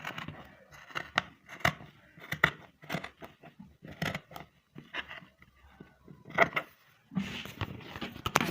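Scissors snip close-up through stacked layers of fabric while a pencil gown is cut out, giving a series of sharp, crisp cuts at an uneven pace with short pauses between strokes.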